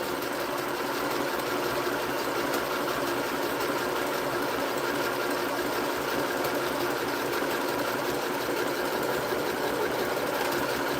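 A sewing machine runs continuously during a test, a loud, steady, close mechanical whir with constant vibration and no pauses or voices.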